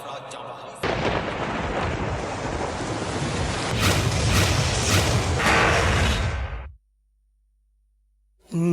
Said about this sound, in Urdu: خیبر پختونخوا میں طوفانی بارشیں